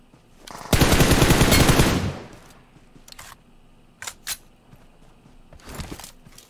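A loud burst of rapid automatic gunfire lasts about a second in PUBG Mobile, followed by sparse single shots and faint clicks.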